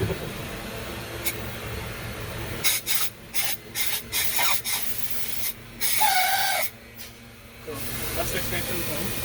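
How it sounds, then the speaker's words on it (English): Spray foam insulation gun firing a test spray, short loud hissing bursts in quick succession, then a longer spray, with someone talking between them. "we do a test spray. Make sure the gun's working, the foam is a good consistency."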